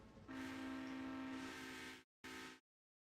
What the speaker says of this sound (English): here comes the passenger train anyway, because I can hear it